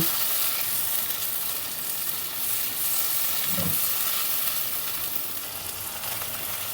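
Spice paste with ground spices being sautéed in a pan for a fish curry with cauliflower and bhetki, a constant soft sizzle and hiss holding steady, with a brief muffled knock midway.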